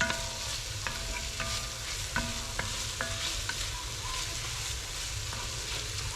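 Onions sautéing in a pan for muskrat stew, a continuous soft sizzle broken by a few light spatula scrapes and taps, heard close and alone.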